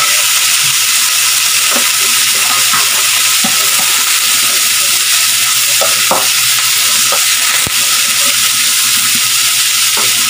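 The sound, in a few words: onion and garlic frying until golden brown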